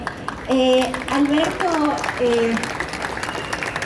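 An audience at a book presentation at the FILEY 2025 book fair gives applause, a soft patter of clapping running under a voice as he talks over it.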